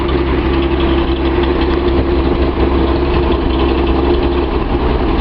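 Datsun 280Z with an L28 engine running steadily with a slight misfire, a loud, close, continuous engine drone and rumble with no talk.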